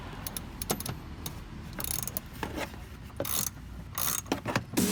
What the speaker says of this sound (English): both of them are in, so we can start ratcheting it